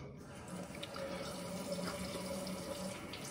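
Water dripping from a tap into the face of a shaving brush while lathering Barrister's Reserve Classic shaving soap, a steady close running-water sound lasting throughout, with no talking.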